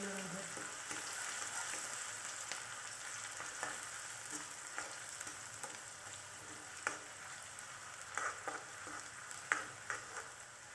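Chopped onion frying in hot oil in a pan: a steady, close crackling sizzle that runs throughout, with occasional small pops and stirring scrapes, no voices.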